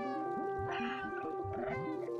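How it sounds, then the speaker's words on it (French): The cat in the video game Stray gives a few drawn-out, wavering meows, fairly close and moderately loud over a soft game backdrop. "je vais miauler pour elle un peu"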